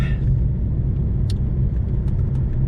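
Steady low engine and road rumble from inside a loaded car driving to the tip, loud and continuous, with a couple of faint brief clicks or rattles over the drone.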